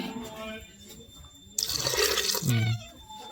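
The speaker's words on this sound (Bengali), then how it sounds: "এর মধ্যে ভিতর পরিমাণ মতন জল দিয়ে নিলাম" Water poured into a pot of grated carrots for carrot halwa, a brief rushing splash rising abruptly midway and ending with a low gurgle, close and moderately loud.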